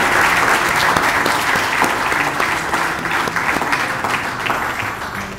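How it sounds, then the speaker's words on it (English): An audience at a spiritual retreat in a Sai Centre in Port of Spain claps for the centre's ladies, a loud, lively burst of many hands that gradually eases in intensity. "Give a clap to our ladies of the center."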